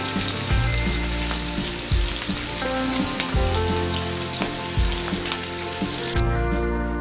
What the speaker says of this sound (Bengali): ভাজা ইলিশ মাছটা আমি একদম ফ্রাই করে নেবো, মুচমুচে ভাজা করে নেবো